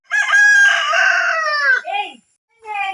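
A rooster crows loudly and close by, one long drawn-out call that breaks into a shorter tail, followed by a brief second burst. The setting is a backyard birthday gathering.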